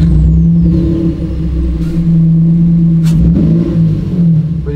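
Jannarelly Design 1 supercar engine idling loud and close, a steady deep rumble with slight rises in revs over a few seconds.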